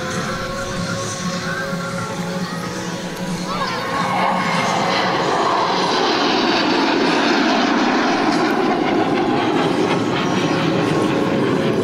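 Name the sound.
Dassault Mirage 2000 delta-wing jet flying at airshow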